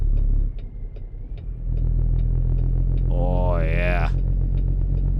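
Low, steady engine rumble of a Cummins N14 truck engine in a custom Kenworth W900, American Truck Simulator, held at low RPM throughout, with a brief spoken word over it near the end.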